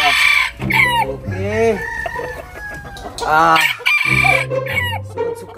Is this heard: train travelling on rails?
no